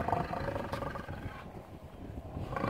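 A bison in Alberta, Canada, giving a low, rumbling grunt that is sustained and roar-like, fairly close but moderately quiet, with no clear talking.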